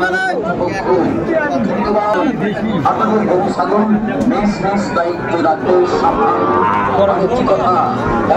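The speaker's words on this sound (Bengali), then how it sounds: "112 চাইছে শাহিওয়ালের ষাঁড় বাচ্চা" Sahiwal bull calves at a crowded cattle market, loud nearby moos mixed into dense crowd babble and close conversation.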